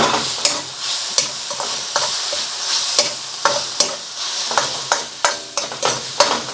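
Spaghetti chow mein being tossed in a hot, sizzling wok, a rapid series of sharp scraping clatters and rustling thumps over a continuous frying hiss, close and loud, with no talking.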